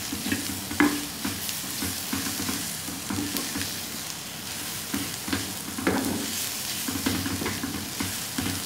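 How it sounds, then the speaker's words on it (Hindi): Onions and spices stirred in a frying pan for egg bhurji, with a steady sizzle beneath repeated scraping strokes of the spatula, close and moderately loud. "इनको अच्छे तरीके से हम मिक्स करेंगे"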